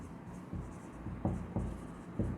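Marker or chalk strokes on a classroom board sound close and dry, a few short scratchy bursts spaced irregularly as words are written, with faint room hum beneath.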